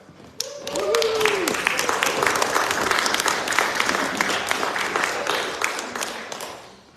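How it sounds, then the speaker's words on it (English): An audience in a hall gives a big round of applause, dense clapping that swells quickly and fades out near the end, with a voice briefly heard at the start. "give a big applause for Riley."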